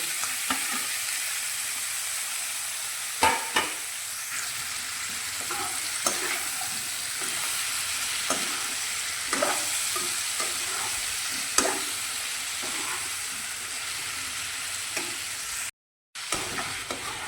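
Garlic-ginger paste and spices roast in a pan under a continuous sizzle, with occasional sharp spatula knocks and scrapes. The sizzle cuts out briefly near the end.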